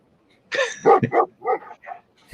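A dog lets out a quick run of five or six close, loud barks and yips in uneven rhythm, tapering off softer toward the end, with no talk over them.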